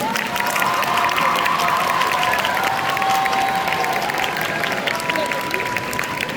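A crowd at a dance battle event applauds loudly, a dense, steady roar of clapping mixed with cheers and shouts, sustained throughout with a faint tonal whistle or voice drifting above it.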